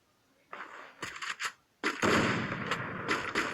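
Sniper rifle shots in a video game crack out in sharp bursts, several quick reports followed by a louder sustained blast, fairly close and heard without talk.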